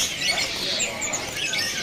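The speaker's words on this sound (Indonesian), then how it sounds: "Nah di sini juga ada burung pentet" Busy chirping and squawking of birds, including a long-tailed shrike, fills a bird market, a dense, noisy chatter with no single call standing out clearly.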